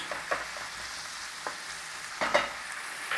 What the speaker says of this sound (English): Nice little saute on there, soften it up, cook out the rawness.